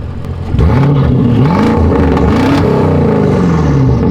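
A BMW V8 with catless downpipes, a straight-pipe mid-pipe exhaust, stock mufflers and cutouts revs hard up close, with repeated loud rising and falling blips over a raspy idle and no talking.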